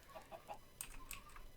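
Chickens cluck in Sky Factory 3, a block-building video game, as a flock builds up; a few short, quiet clucks and bird calls, faint and close together, with no talk.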